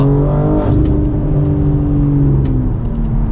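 BMW G82 M4 fitted with an aftermarket exhaust, driving with a loud, steady engine drone and shifting harmonics as revs change, heard from close inside or near the car, with no talk.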